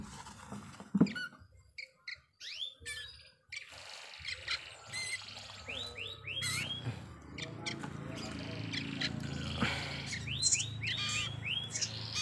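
Young sirtu chicks being hand-fed chirp in thin, rising peeps while learning to peck, with soft pecking taps and handling noises close by, quiet overall with some talk underneath.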